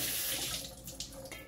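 Water runs steadily from a kitchen tap into a sink while fish is rinsed, a close, continuous splashing gush with small shifts in flow and no talk.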